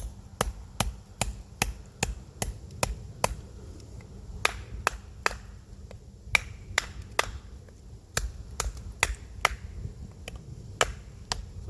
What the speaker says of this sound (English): let's see if we can actually drive this through this knot